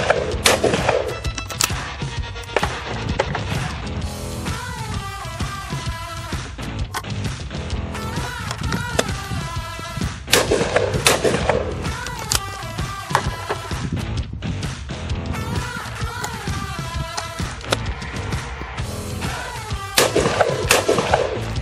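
Shotgun firing Eley VIP Game cartridges at a country shooting ground, with repeated sharp loud reports spread across the clip and no talking.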